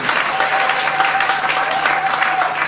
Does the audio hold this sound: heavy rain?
no